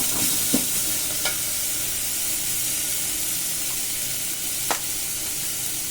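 Ground spice powder sautéing in a pan for tomato rasam, a steady close sizzle and hiss throughout, broken by a few light clicks of a stirring spoon.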